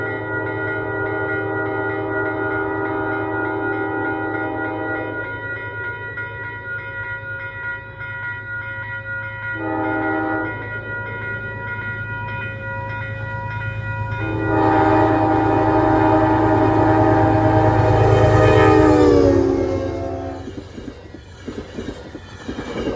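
Train hauled by heritage locomotives passing near Poughkeepsie, with a loud multi-tone horn sounding in several long blasts over a steady rumble of wheels and engines that swells as it goes by.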